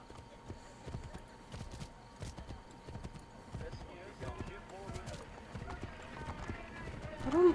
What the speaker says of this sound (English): No, get back on the horse.